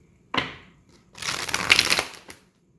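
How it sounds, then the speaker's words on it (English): Tarot cards are shuffled close up in a quiet room: one quick riffle, a pause, then a longer rustling, flapping shuffle that tapers off with a final tap. "I just want to make sure I wasn't shuffling in reverse"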